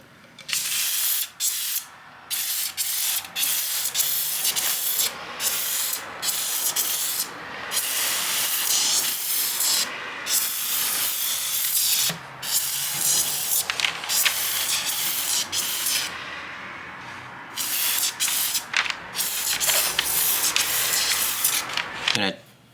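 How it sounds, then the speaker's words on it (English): Spray gun misting black-pigmented finish coats onto a guitar peghead during a repair, a loud steady hiss in repeated bursts broken by short pauses. "So I don't have to spray many coats of it to get it to be black."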